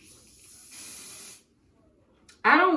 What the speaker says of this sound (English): We're gonna go in with the even spray, which y'all have seen before, and I'm going to spray my edges